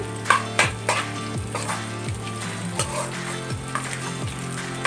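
Dried chillies fry in hot oil with a continuous close sizzle, broken by repeated scrapes and knocks of a spatula stirring the pan.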